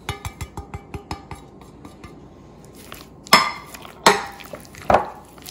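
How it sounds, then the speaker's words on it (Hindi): Spoon clinking and scraping against a bowl while chicken is mixed with chili powder, turmeric, black pepper and ginger-garlic powder; a quick run of light rhythmic taps gives way to three louder, ringing knocks. "इसको आपने अच्छी तरह मिक्स किया।"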